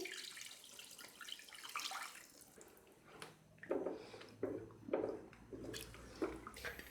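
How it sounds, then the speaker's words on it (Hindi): Three cups of water are poured into a pot of mutton and potato curry, splashing and gurgling in several bursts of pouring that rise and fall, with no talk. "आलू गलाने के लिए अब इसमें मैं पानी ऐड करती हूँ। 3 कप पानी ऐड कर रही हूँ।"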